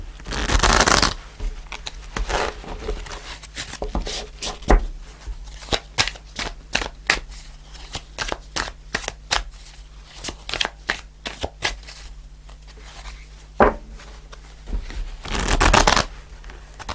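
Tarot cards being shuffled at a table, a close, continuous crisp riffling and flicking, with louder bursts at the start and end, no voices.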